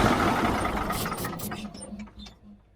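A 45-year-old Mack truck diesel engine, sprayed with extra-strength starting fluid, cranks and chugs loudly and close, its rough mechanical clatter tapering off over a few seconds.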